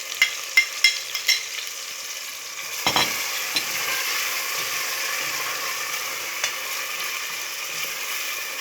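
Ginger and garlic fry in a pan for apple gourd curry, a steady soft sizzle running throughout, with a few sharp clinks of a spoon against the pan near the start and a brief stirring scrape midway.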